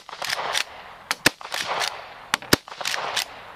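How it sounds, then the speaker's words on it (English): A tubular magazine rifle fires rapidly outdoors, several sharp loud cracks in quick succession with brief echoing tails and mechanical action sounds between shots. "you can unleash a lot of rounds downrange very quickly"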